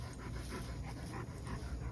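A dog pants close by in quick, steady breaths, soft and rhythmic against a quiet outdoor garden.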